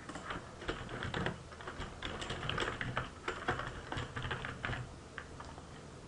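Continuous clicking of a computer keyboard as someone types steadily, soft close keystrokes in an uneven patter with no talking.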